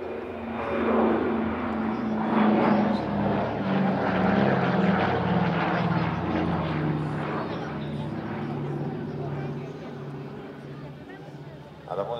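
Douglas DC-3 propeller airliner flying an airshow display, its steady droning piston-engine roar sustained and fairly loud throughout, with someone talking over it.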